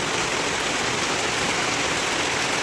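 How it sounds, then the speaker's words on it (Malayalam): Rain falls outside in a steady, even hiss that fills the whole stretch, with no voices or other sounds over it. "മഴ പെയ്യുന്നുണ്ട്."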